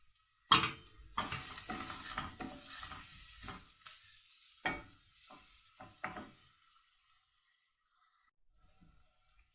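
Chopped onions softening in a hot pan for a Turkish madımak dish, with a spatula scraping and stirring over a soft sizzle that fades to near silence toward the end.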